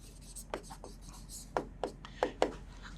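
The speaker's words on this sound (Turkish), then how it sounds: "Şöyle yazıyorum." Pen or chalk strokes during a lecture on measurement and evaluation, several short scratchy marks in an irregular rhythm over a quiet room background.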